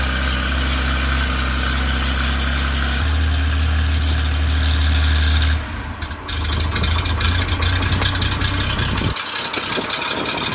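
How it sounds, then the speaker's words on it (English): Porsche 911 engine with a new muffler, a loud steady low idle rumble that briefly dips and returns, heard close with a throaty, deep tone. "That's a normal idle."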